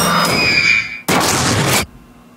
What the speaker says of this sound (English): Explosion in my face.